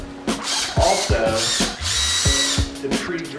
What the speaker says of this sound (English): to pre-drill the holes